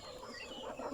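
A labuyo, a red junglefowl chicken, gives soft scattered clucks close by over steady outdoor background noise, with no talking.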